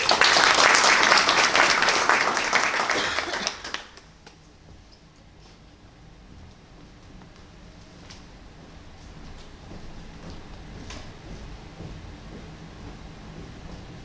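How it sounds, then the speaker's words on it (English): An audience at a graduate management awards ceremony gives a loud round of applause for finalists and nominees, which fades out after about four seconds into quiet room tone with a few faint taps. "let's give one more round of applause for all the finalists and all the nominees"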